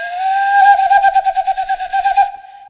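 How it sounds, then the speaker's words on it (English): A bird-like warbling call blown on the detached top part of a tin whistle: a loud, steady pure tone that breaks into a rapid fluttering trill, then holds steady again before stopping abruptly. "you can take the top part off and you can use this to make some really interesting bird sounds."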